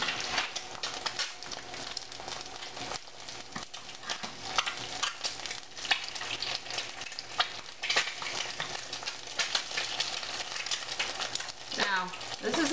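Eggs frying on a stove: a continuous crackling sizzle of hot fat with occasional scraping and stirring sounds, steady and close, with no talking.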